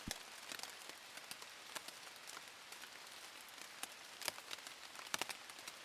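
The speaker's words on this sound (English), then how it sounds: "As you can tell, raining a little bit, not too bad." Light rain falling on a hiking trail, soft steady patter with scattered sharper drops close by, quiet and without voices.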